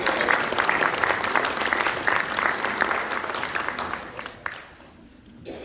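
An audience at a county historical society annual meeting claps steadily for several seconds, a dense close applause that thins and fades out near the end.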